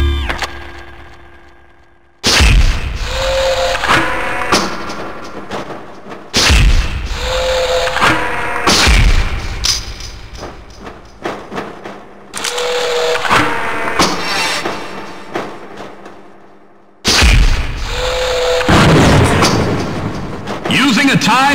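Grenade launcher explosions from the 2000 PC shooter Gunman Chronicles: five heavy booming blasts, each with a sharp onset and a long rumbling decay, spaced a few seconds apart and loud against in-game ambience.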